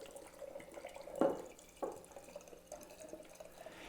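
A 50% ethyl alcohol and water solution is poured into a jar, giving quiet liquid splashes and drips with a couple of louder gushes, faint and close with no voices.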